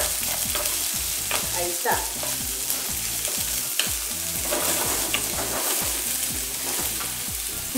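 Cuban sofrito sizzles loudly in a pan, a steady crackling fry broken by repeated scraping stirs of a utensil, close up, with a brief spoken remark near the start.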